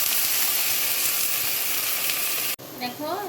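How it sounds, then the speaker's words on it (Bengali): Vegetables tossed into hot oil already browning onion and chili, a bright steady sizzle that cuts off sharply, leaving a quieter pan with faint stirring and brief high squeaks. "এবার আমি সমস্ত সবজিগুলো দিয়ে দেবো, দিয়ে ভালো করে ভাজবো।"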